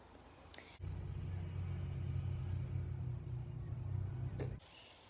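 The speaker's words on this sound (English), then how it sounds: "there's a freaking car over there that's making lots of noise" A nearby car engine rumbles loudly and steadily for a few seconds, a low droning roar that starts abruptly and cuts off just as sharply, with no talking over it.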